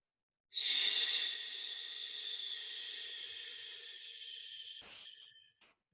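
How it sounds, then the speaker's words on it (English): A group of people draws in a long, deep collective breath together, a single sustained airy inhale-exhale lasting several seconds before fading, with a brief soft rustle near the end, no talking. "let's all begin by just taking a nice, deep, collective breath"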